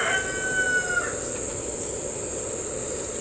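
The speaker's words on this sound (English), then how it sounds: "that rooster thinks that it's evening" A rooster crows outdoors during a partial solar eclipse in 2017, a single drawn-out call fading at a moderate distance, followed by a steady high buzz of insects in the background.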